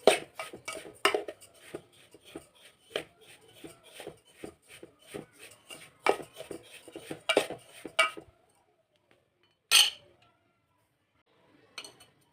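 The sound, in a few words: semolina (rava) being roasted in ghee in a pan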